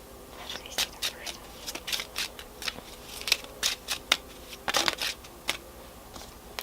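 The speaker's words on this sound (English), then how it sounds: "Let's just shuffle a little bit." Lenormand oracle cards are shuffled in repeated crisp riffles and taps, close up, with brief pauses between bursts.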